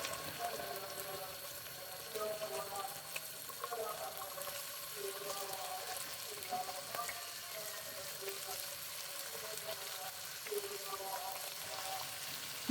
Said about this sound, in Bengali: মাংস আর হচ্ছে সসেস গুলো একটু ফ্রাই মতন করে ফেলতেছি তেলের মধ্যে আগে